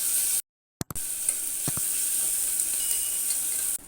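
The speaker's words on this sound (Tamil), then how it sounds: "மெலிசாக கட் பண்ணால் தக்காளியை இதில் சேர்த்து நல்லா வதக்கிக்கலாம்." Thinly sliced tomato sautéing in a pan for soya chunk pulao sizzles in a steady close hiss, cut by a short break near the start, with a few faint stirring taps.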